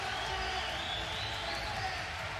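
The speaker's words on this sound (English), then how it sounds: "Listen to that crowd." A tournament crowd applauds and cheers as one steady, dense wash of clapping and voices that fills the whole stretch at an even level.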